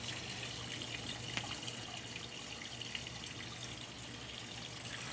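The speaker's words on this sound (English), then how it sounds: "Now you hear the rinsing of the water, right?" Water runs steadily inside a Bosch washing machine during its rinse cycle, a soft continuous trickle and wash with a faint low hum, quiet and unbroken throughout.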